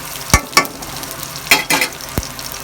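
Chopped onion being lightly fried and stirred in a pan for a dried loitta fish dish, with a few sharp scraping stir strokes over a faint, steady sizzle close up.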